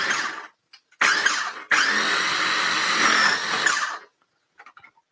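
Food processor pulsed in several bursts to grate ingredients for bratwurst sandwiches, with a brief whir, a short gap, another short burst, then a longer steady grinding run of about two seconds before it stops, loud and close with no talking.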